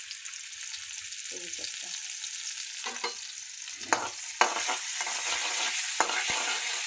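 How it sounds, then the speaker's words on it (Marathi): Ginger and garlic sizzle steadily in hot oil for a Marathi-style dry vegetable of hadga flowers, with a few louder spatters and spoon scrapes; someone says a couple of words briefly over the frying. "आधी पहिल्यांदा काय टाकायचं बघा. अद्रक लसूण टाकायचं."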